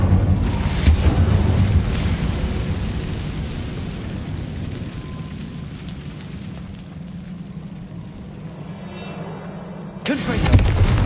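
Incendio fire spell cast in Hogwarts Legacy, a loud roaring whoosh of flame that sustains and slowly thins out for several seconds before a fresh burst at the end.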